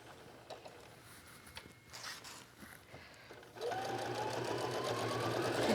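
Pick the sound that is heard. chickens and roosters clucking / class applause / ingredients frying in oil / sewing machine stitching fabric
sewing machine stitching fabric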